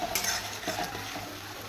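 Masala paste being sautéed in a pan before small Bombay duck fish go in, a soft sizzle with light stirring and utensil clinks against the pan, brief and close.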